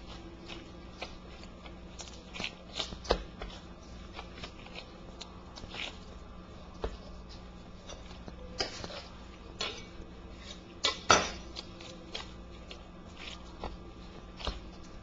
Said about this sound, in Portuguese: Vou cortar a massa em pedaços de 300 gramas.